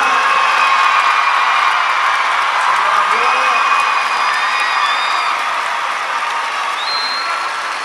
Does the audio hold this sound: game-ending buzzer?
no